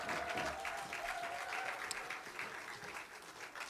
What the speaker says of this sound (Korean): 다시 한번 우리 큰 박수로 한번 축복합시다